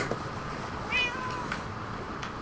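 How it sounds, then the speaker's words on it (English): Cats in a survival video game, with a short, faint meow rising briefly over steady background ambience, followed by softer scattered sounds. "What about my cats?"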